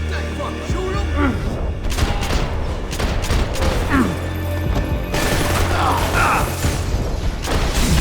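Gunfire in the video game Max Payne 3 pops in several sharp bursts, mixed with mechanical clatter and booming hits over a busy action soundscape, with voices faintly present.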